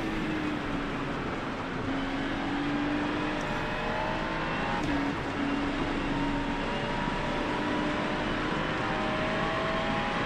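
A race car engine drones steadily through a rainy lap of Spa in iRacing, holding a continuous loud roar with slight pitch shifts and no voices over it.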